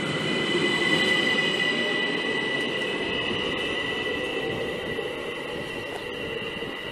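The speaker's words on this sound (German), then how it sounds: "So, jetzt fährt er ab." An ÖBB Talent passenger train pulls out of a station in Rosenbach, giving a steady, loud rumble of rolling wheels with faint high whines and no talk over it.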